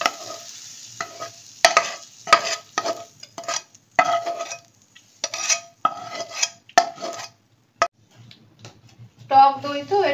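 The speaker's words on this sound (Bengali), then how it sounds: "এরপরে সবগুলো মেখে নিলাম।" A spoon stirs sweet corn raita, mixed into sour curd with a pinch of sugar, in a bowl. Close, irregular clinks and scrapes come in quick bursts with short pauses, and a brief voice sounds near the end.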